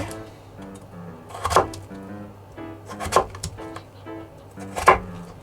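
A kitchen knife slices potatoes in half on a cutting board while making crispy french fries, giving three distinct woody thunks against the board spaced a second or two apart, with faint background noise and no talk.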